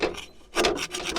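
A hardwood spatula scrapes gunk off the bottom of a camp oven during cleaning, giving close, rough rasping strokes in a quick back-and-forth rhythm of about three passes.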